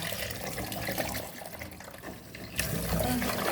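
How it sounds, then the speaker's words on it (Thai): Water running over soybeans being rinsed in a sieve or strainer for homemade soy milk, a steady trickling, splashing wash that swells louder near the end, close and fairly quiet. "ก็จะล้างใส่ตะแกรงนะคะ หรือว่ามีกระชอนอะไรก็ได้จะล้างง่ายค่ะ"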